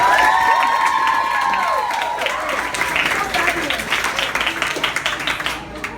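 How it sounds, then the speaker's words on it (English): An audience at a summer camp cast talk-back greets Broadway performer Gavin Creel with loud, sustained applause, whistles and cheers rising early, then steady clapping that tapers off toward the end. "Let's give Gavin a big round of applause."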